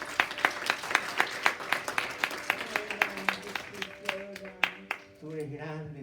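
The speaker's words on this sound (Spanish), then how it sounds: "Démosle el aplauso al Señor." A church congregation claps in rhythmic unison, sharp regular beats at a steady pulse that slow and fade out. Tonal music or singing rises underneath near the end.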